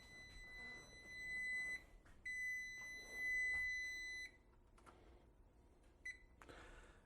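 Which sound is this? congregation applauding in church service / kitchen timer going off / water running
kitchen timer going off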